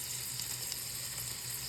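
Butter sizzling in a pan for spaghetti with black walnuts, a steady, close frying hiss that holds even throughout with no talk.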